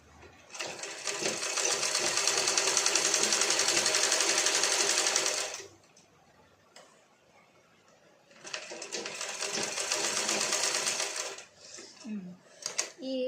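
A sewing machine stitches fabric in two loud, sustained runs of fast mechanical whirring, separated by a quiet pause, with a brief voice and small clicks near the end.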